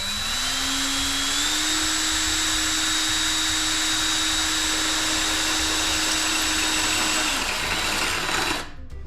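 A drill bit whines steadily into a shower wall, a loud continuous high-pitched motor tone that holds for several seconds before abruptly cutting off near the end.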